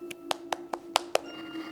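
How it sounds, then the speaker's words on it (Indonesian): Six quick, sharp hand claps in an even rhythm, close and crisp, over a faint steady hum, then quiet. "Kita tepuk tangan dulu abis nonton trailernya."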